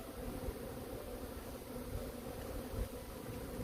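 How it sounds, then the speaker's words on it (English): Honeybees swarming out of a hive fill the air with a steady, dense buzzing drone, close and continuous throughout with small swells in loudness. "look at the bees pouring out of the hive"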